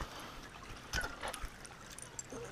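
Creek water trickles softly near a donkey and dogs, a faint, close, uneven burble with small splashy blips.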